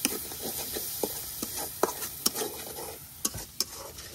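Spice masala of cumin paste, turmeric, coriander powder and salt stirred and fried in a pan before adding koi fish, a low sizzle broken by repeated sharp scrapes and taps of the spatula.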